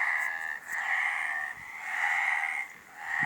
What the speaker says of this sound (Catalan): Que ara ja no cal tancar els ulls per sentir les granotes cantar.